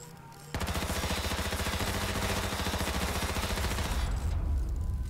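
Automatic gunfire in the battle royale game H1Z1 starts suddenly and fires in a fast, steady stream of evenly spaced loud shots for about four seconds, close and alone with no talk.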